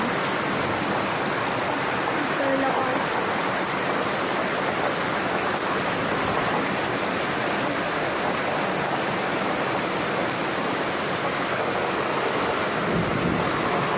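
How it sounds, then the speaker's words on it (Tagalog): Heavy rain pours steadily and loudly for the whole stretch, a dense unbroken hiss with a deep rumbling undertone like distant thunder. "ulan guys"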